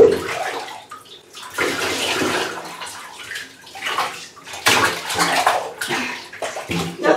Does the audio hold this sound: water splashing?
yes